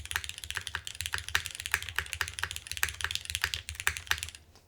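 Rapid typing on a mechanical keyboard with Cherry MX2A switches and an updated plate, a TOFU TKL from KBDFans, close up with steady clacky keystrokes and no voices.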